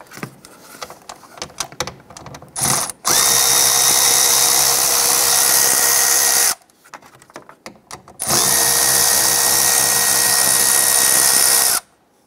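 A power tool drives an 8mm socket to loosen the nuts on a Chrysler 300 side mirror, with two long, loud, steady whirring runs of a few seconds each, separated by short pauses and small clicks.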